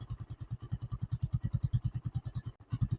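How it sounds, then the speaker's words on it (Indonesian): Rhythmic low thumping idle of a motorcycle engine running after repair of a seized piston, smoking, with even pulses repeating steadily close by and a brief dropout near the end. "Motor udah hidup, cuma ngebul ya Mas Bro ya."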